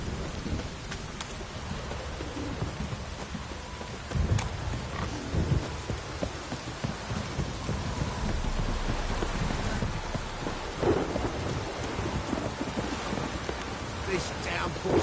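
A heavy rain downpour with thunder rolls through a Witcher-style fantasy game scene, a dense steady hiss of rain and low rumbles, with a horse faintly present and brief game dialogue over it.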